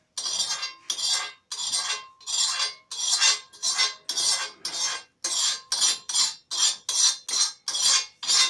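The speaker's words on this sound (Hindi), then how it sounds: "अब इस भुनी फिटकरी को फिर कूटना और महीन करना है।" Roasted alum being pounded into fine powder for a home malaria remedy, with about fifteen sharp, evenly spaced strikes of a pestle in a hard mortar, ringing with a metallic clink, close and alone.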